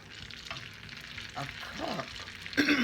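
Praline topping melting in a pan on the stove, soft sizzling and frying hiss with occasional scraping stirs, fairly quiet and close.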